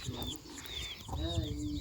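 Chickens cluck and chirp softly in a coop amid steady background noise, with a faint voice now and then.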